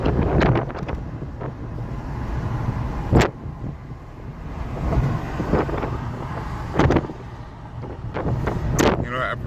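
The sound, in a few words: wind blowing into the microphone outdoors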